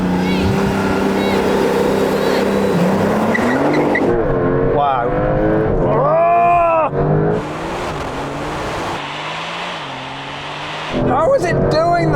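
A Porsche Turbo S and a Carrera GTS drag race, loud engines roaring and revving up through rising gear pulls with wind rush, while people exclaim in amazement over the noise.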